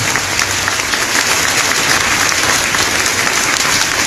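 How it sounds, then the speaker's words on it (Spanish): Loud, continuous clapping from a sizable audience at a public gathering in San Juan La Laguna, Guatemala, fills the whole stretch, thick and even without pauses or voices. "damos con fuertes aplausos"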